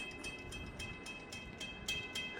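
An FEC train on a siding near St. Augustine approaches as a steady, fairly faint low rumble of rolling wheels, with light rhythmic clicks ticking over it and no voices.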